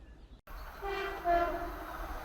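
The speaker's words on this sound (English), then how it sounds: "There's the train." A train horn sounds with a sustained, rising tone over the low rumble of a passing train, fairly loud and close.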